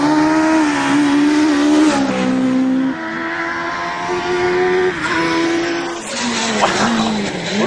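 A Promotive front-wheel-drive R1 Mini race car howls past on track, its engine note loud and steady with pitch shifting through gear changes and revs rising and falling, no voices over it.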